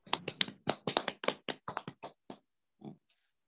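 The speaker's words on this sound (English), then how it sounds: "have a big round of applause for Rajendra ji" A small group claps unevenly over an online meeting call at a felicitation, about a dozen separate claps in the first two seconds, then a lone clap or brief sound after a pause.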